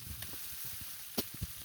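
Chard greens frying in oil in a pan, a faint, steady sizzle with a couple of soft clinks or scrapes from a spatula near the end.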